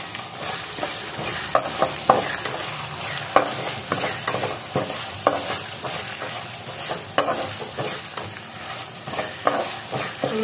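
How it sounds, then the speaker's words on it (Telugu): Onions fry in hot oil in a pan, sizzling steadily while a utensil stirs and scrapes through them in frequent irregular clicks close by. "నేను ఉల్లిపాయ వేసుకుంటున్నాను"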